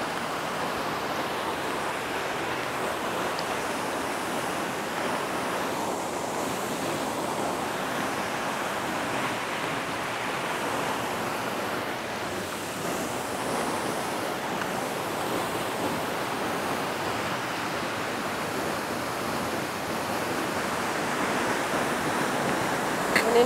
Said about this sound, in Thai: น้ำตก น้ำตกจักกระดิ่ง จักกระดิ่งโอ้โหน้ำตกใหญ่มากเลย